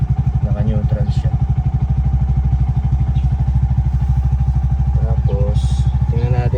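A Bajaj RE auto rickshaw engine putters at idle in neutral, a steady close mechanical chugging throughout, with a few brief clicks and rattles on top.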